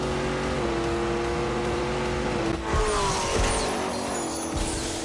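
A supercharged Corvette-engined car launches in The Grand Tour video game: a loud, steady engine drone climbs in pitch as it accelerates, with a brief tire squeal and no talking.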